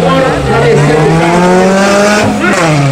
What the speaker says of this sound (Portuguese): Vamos lá, vou fazer o cavalo de pau.